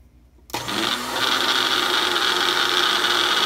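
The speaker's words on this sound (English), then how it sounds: "So you're going to put your stomp remover into the blender and blend it up." A kitchen blender grinds stump remover (potassium nitrate) for a homemade rocket engine. After a short quiet start, it kicks on abruptly and settles into a loud, steady whirring buzz that runs to the end.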